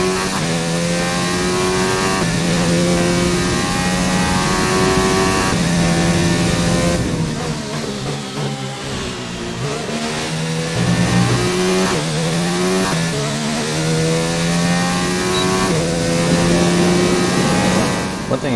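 A Formula 1 car engine in the F1 2019 racing game wails at high revs, climbing through the gears with repeated upshifts and a drop-off in the middle while braking. Someone talks over the engine throughout.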